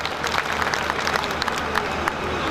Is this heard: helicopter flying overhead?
no